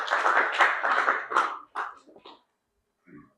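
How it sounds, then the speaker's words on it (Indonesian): Several bursts of hand clapping from classmates in a school classroom, uneven and fading, with short groups of claps separated by gaps and one brief final patter. "tepuk tangan untuk Salma"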